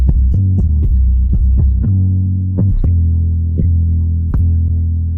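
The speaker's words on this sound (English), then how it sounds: "which is just a normal 808 and a synth bass" Normal 808 paired with a synth bass, loud deep throbbing notes struck in a steady repeating rhythm, with sharp attacks and sustained low tones and no voices.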